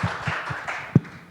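A brief patter of audience applause at a Korean SSAFY recruitment information session, a few scattered claps and taps with one sharper clap near the end, fairly close and short-lived.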